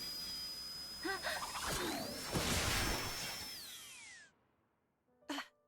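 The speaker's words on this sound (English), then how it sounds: "Poppy's drill is the drill that will pierce the heavens." A drill attack from the Xenoblade Chronicles 2 video game, with rising and falling whirring, mechanical ratcheting and crashing effects over about four seconds, ending abruptly, followed by a short sharp hit.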